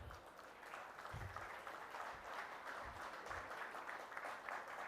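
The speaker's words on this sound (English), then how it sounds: "Ladies and gentlemen, can we have a round of applause?" A summit audience in a conference hall applauds, a soft continuous wash of many hands clapping heard at a distance, fairly quiet and even, with a few low thumps underneath.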